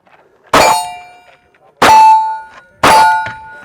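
Three sharp metallic clangs from SCCY DVG-1 pistol shots hitting a 6-inch steel plate 25 yards downrange, each ringing briefly like a struck steel plate, spaced about a second apart with no talking.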